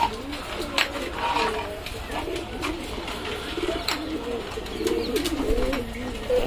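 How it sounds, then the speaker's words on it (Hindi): Pigeons coo in a loft during the rainy season, low rolling calls from several birds close by, mixed with rustling, flapping and a voice talking over them. "ये देखिए दोस्तों कबूतर"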